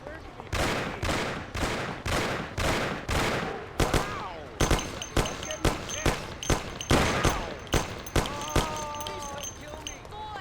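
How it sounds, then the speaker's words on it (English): Gunfire in the Mafia video game comes as a rapid burst of loud, close shots followed by a steadier run of single sharp reports, with voices shouting in between. "Lord, it's shooting here."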